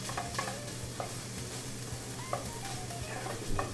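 Garlic frying in a pan for a tofu and carrot stuffing, sizzling steadily with occasional stirring scrapes and light clinks of a utensil against the pan.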